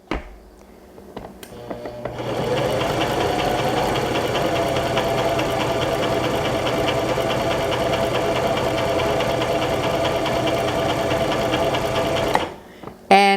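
A Brother LX3817 sewing machine stitches a buttonhole bar tack, a rapid, even mechanical chatter close by that runs steadily for about ten seconds before stopping with a few clicks.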